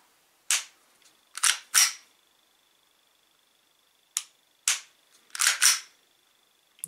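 Smith & Wesson M&P9c airsoft gas blowback pistol by Cybergun/VFC firing, sharp snapping reports in irregular clusters of singles and quick doubles with quiet gaps, close and crisp with a faint steady whine underneath.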